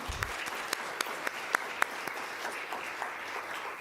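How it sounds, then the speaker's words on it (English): An audience at an evening parent education session applauds its panel, a soft, even wash of many hands with a few sharper claps standing out, heard from a distance. "please give a round of applause for our panel tonight"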